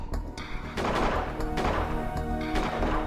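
Rapid bursts of loud video game gunfire in Space Haven crack repeatedly, rattling like automatic weapons in a dense, chaotic firefight.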